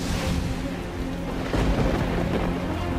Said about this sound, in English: I don't like thunder.